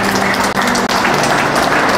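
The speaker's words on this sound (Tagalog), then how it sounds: "Pagkatapos yung maupo, muling magpalakpak sa Panginoon" A church congregation in Batangas City claps together in a dense, loud burst of hand claps that lasts a couple of seconds, with a faint tonal hum underneath.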